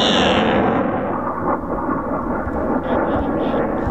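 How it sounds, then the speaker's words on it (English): A Eurofighter Typhoon jet in a steep strafing dive in dark, gloomy conditions gives a loud, deep, rumbling roar that fills the whole clip. "The Typhoon is dry strafing, which means no live rounds are actually used."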